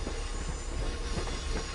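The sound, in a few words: MBTA HSP46 locomotive train running, from Train Sim video game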